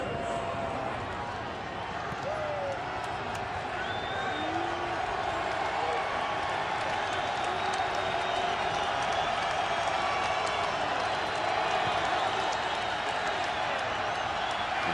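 A football stadium crowd at a 2007 Dolphins vs Patriots game at the Patriots' stadium makes a steady, broad roar throughout. A commentator talks over it.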